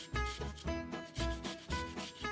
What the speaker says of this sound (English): we're gonna grate in a little bit more of that fresh ginger from earlier